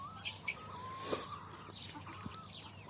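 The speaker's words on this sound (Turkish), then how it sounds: "şu an öttü kesin olan şu açık renkli horozumuzla bu siyahımız" Two roosters in a coop, one light-coloured and one black, give short crowing and clucking calls over faint farmyard chirps and scuffles, quiet and somewhat distant.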